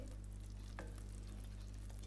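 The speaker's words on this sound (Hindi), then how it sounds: "तो 3-4 मिनट हम इसे इसी तरह पकाएंगे लो फ्लेम पर।" Sweet vermicelli (seviyan) with water cooking in a pan on a low-to-medium flame, giving a soft, steady sizzle and simmer throughout with a faint stir or scrape near the middle, no talking.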